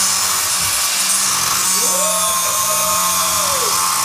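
An angle grinder cutting a nut during work on a BMW E46 with an angle kit, heard as a loud, close, high-pitched whine that sweeps in pitch as it bites into the metal.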